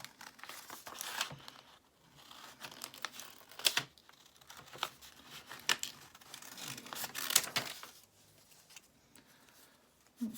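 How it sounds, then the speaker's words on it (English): Scissors cutting through three folded layers of paper, with crisp snipping and crinkling strokes in irregular bursts, close and fairly quiet, no talk. "we're going to cut through 3 layers for the big one, but we actually only need the top one"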